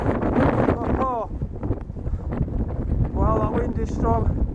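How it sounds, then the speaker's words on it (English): Strong wind gusts roar across an open, snowy fellside at Bowscale Tarn, buffeting the microphone in a steady loud rush, with a voice talking over it in places. "wow, that wind is strong"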